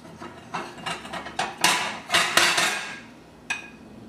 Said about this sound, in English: now what I'm going to do is get a piece of bread and get a plate